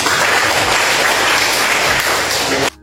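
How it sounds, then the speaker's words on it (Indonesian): A classroom of students bursts into dense, loud applause that runs nearly steadily, then cuts off abruptly near the end. "Tepuk tangan buat kita semua"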